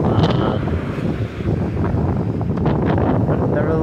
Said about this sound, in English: It's pretty windy, pretty crazy out.